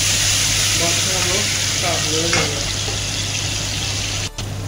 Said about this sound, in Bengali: তারপর কিছু পরিমাণ তেল দিয়ে দিলাম ভিতরে তারপর কিছু পরিমাণ রসুন দিয়ে দিলাম